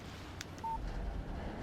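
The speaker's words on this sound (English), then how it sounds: "Text message from Barry" A phone text message alert in the video game Alan Wake gives a single short, clear electronic beep over quiet ambient background.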